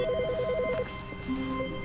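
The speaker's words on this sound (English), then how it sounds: "His phone's ringing." An office desk telephone rings in The Stanley Parable video game, a clean electronic trill in rapid repeated pulses that stops, then returns as a softer, lower trill.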